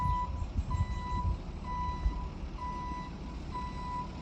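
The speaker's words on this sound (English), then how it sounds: "I don't know how distracting that truck is" A truck reverses nearby, its high electronic beep repeating steadily about once a second over a low rumble of engine and outdoor background.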